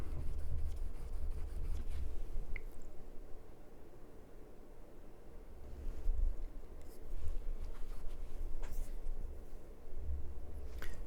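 Faint, close rubbing and scrubbing of an eraser over a permanent-marker pattern on a LEGO brick, soft repeated strokes with small pauses, quiet throughout.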